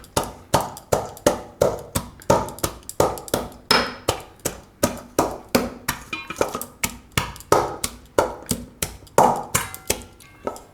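Corn kernels pounded coarsely with a bowl or glass for makkai na pudla, a steady run of about two dozen sharp, even thuds close by, with no talk.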